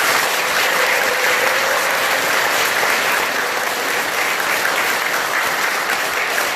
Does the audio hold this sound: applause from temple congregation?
yes